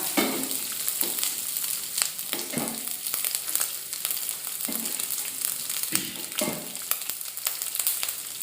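Steady sizzling of coconut pieces frying in hot ghee, with occasional scraping stirs and crackles, close and continuous with no talking.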